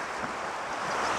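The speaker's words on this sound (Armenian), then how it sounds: "գետը" A river flows steadily in the open air, heard as an even, broadband rush of water with some wind noise, constant and fairly close throughout with no voices.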